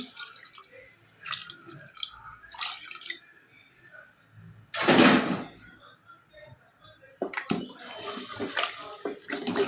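Water poured into a pot of chicken curry cooking with chili powder, a short loud splashing pour in the middle with lighter drips and clatter around it.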